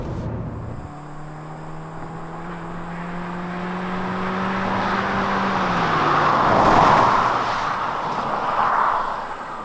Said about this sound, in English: Now engine kicked in, so very smooth transition as well.